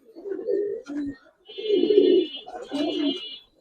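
Giribaz pigeons coo in three close, low bursts as they are let go, with a thin whistling tone riding above the calls.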